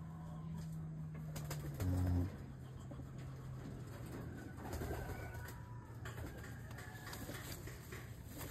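Pigeons from Taiwan coo softly and close by, with a low burbling call near the start and fainter cooing later over quiet background noise.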